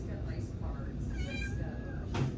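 Small cat making soft pips, squeaks and faint meows, close to the microphone amid steady room noise, with a voice nearby.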